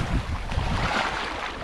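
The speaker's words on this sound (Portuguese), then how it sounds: "ventando bastante aqui na região" Strong wind at a river buffets the microphone in a steady, loud roar with low rumbling gusts, no voices present.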